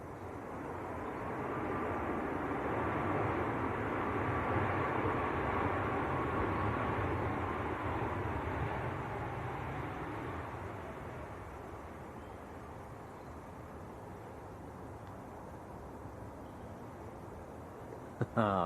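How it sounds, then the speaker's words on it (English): A Ryanair airliner arriving from Milan touches down at Manchester Airport, a broad roaring engine and air rush that swells over the first seconds, then slowly fades into a steady distant rumble. "Ryanair just touching down. This one is in from Milan."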